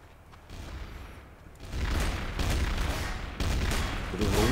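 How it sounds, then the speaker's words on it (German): Gunfire from the Trouble in Terrorist Town game, with dense bursts of shots and booms growing louder after a quieter opening and running on with little pause. "Wird irgendwo geschossen? Geschossen wird da!"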